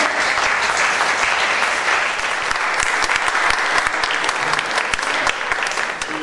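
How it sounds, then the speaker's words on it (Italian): An audience applauds a performer at a music and poetry event, dense steady clapping from a crowd that carries on without letup throughout. "Gianluca Nodi della Scuola di Scagliarini, un applauso!"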